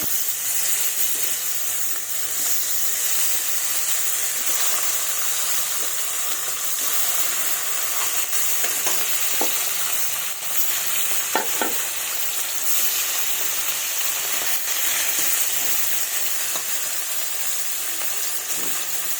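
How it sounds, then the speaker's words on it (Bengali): Fish pieces frying in mustard oil in a hot wok, a loud, even, unbroken sizzle held close throughout, with a few faint clicks partway through. "কিছুক্ষণ ভেজে নেব এইভাবে"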